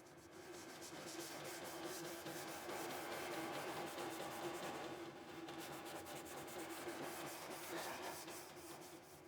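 Steady rubbing and scrubbing of a rusty surface treated with a chemical rust remover, a faint continuous raspy scratching texture lasting throughout with slight swells in intensity.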